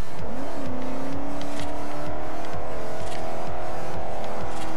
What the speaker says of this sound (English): Look at that burnout.